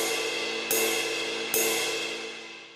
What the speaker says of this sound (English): Here we have our ride.